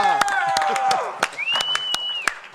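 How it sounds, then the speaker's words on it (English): Audience applause with cheering and whistles at a live music show, Pop Montreal 2014, a steady wash of clapping with sharp hand-clap peaks and rising whistle tones, loud and close. "And now a bigger round of applause for the hosts."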